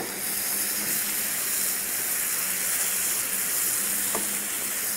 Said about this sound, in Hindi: मसाले को हल्का सा भूनेंगे।